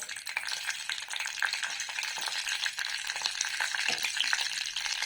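Mustard seeds, fenugreek and two dried chillies sizzling in hot oil for tomato pepper rasam, a steady bright crackle with many tiny pops and spits, close and continuous.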